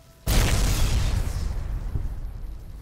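A Tesla cannon shot explodes in the video game Fallout: New Vegas, one sudden loud boom that breaks out and rumbles on as a sustained roar for over two seconds.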